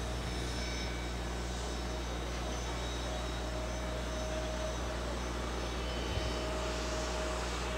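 An Emirates airliner's jet engines drone as it taxis toward runway 4 Left at JFK Airport, a steady, fairly distant roar that holds level without change.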